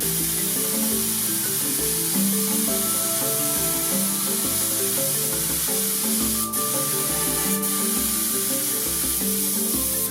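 A spray gun painting a rally car sends out a steady hissing spray that runs continuously, with a low droning motor underneath and a couple of brief sharp clicks near the end.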